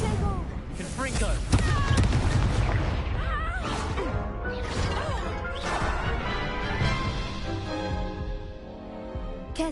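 Explosive Confringo spell blasts from Hogwarts Legacy duelling, with loud crashing bursts and smashes over a dense mix of spell effects and music, while voices shout incantations throughout.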